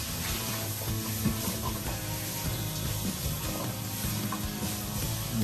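Lamb shanks sauté with Cavender's Greek seasoning and garlic in a single pan, giving a dense, continuous close-up sizzle with faint stirring and shifting underneath.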